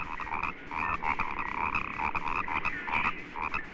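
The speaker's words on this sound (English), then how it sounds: "Another order, the toads and frogs, are different from other amphibians." A dense chorus of frogs and toads croaking in a steady pulsing rhythm, continuous and fairly loud, with no voices, as heard in an old 16mm educational film about amphibians.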